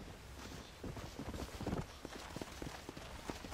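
Soft, uneven hoof clops of a horse walking in Red Dead Redemption, faint and somewhat distant, with a brief louder cluster midway.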